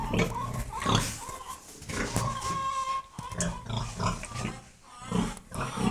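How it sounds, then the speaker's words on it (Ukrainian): Pigs grunting and squealing nearby in a continuous, overlapping chorus, with snorts and higher-pitched squeals rising and falling. "Свинки наші."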